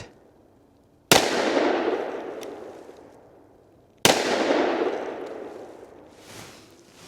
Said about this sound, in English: we just have 4 rounds and we're at 10 yards, which is where we should be shooting with the 10 millimeter